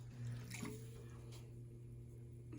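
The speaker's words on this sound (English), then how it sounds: "I'm gonna re-wet this top part. I'm not dribbling water onto it. I'm just kind of sponging it on there." Faint splashing and dribbling as water is sponged onto a clay vase on a spinning pottery wheel, over a steady low hum of the wheel motor.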